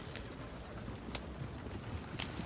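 Rapid hoofbeats of horses galloping in Red Dead Redemption 2 sound as a dense, fairly faint rumble with a few sharp clicks, no voices over it.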